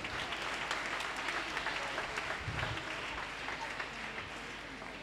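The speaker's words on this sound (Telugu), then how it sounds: "మనం అందరం ఒకసారి గట్టిగా చప్పట్లు కొడదాం" A church congregation at a Maundy Thursday Holy Eucharist in a shrine breaks into steady, sustained applause, a dense even clapping that fills the room and slowly eases off toward the end.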